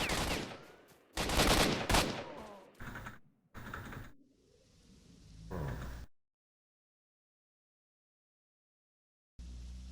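Bursts of game gunfire from S.T.A.L.K.E.R.: Shadows of Chernobyl, an inaccurate gun fired in several loud volleys with short gaps, then a long silence before one last burst near the end.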